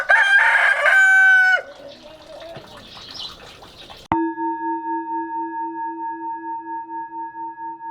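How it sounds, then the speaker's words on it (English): Roosters crowing at first light in a village in the Annapurna foothills of Nepal, a loud nearby crow followed by fainter rustling and a clucking call, then a steady pulsing tone to the end. "we're waking to the sound of cockerels"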